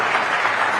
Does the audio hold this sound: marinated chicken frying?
no